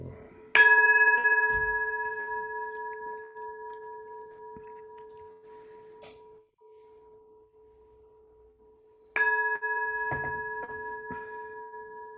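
A temple bell at a Sunday Zen session rings twice, about eight seconds apart, each stroke loud and clear with a long, slowly fading resonant hum and faint background noise between.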